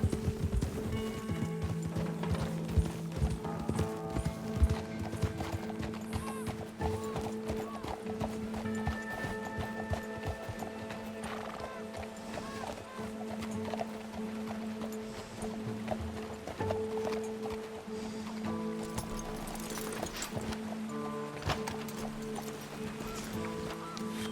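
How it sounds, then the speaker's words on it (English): Rhythmic horse hooves clip-clop steadily over ground in Red Dead Redemption 2, with occasional snorts and background music, continuing throughout at moderate volume. "Control your horse, Arthur."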